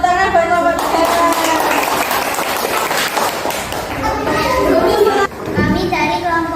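Classroom applause for a student group after a quiz answer, with children clapping and chattering in a steady, dense wash that carries on for several seconds.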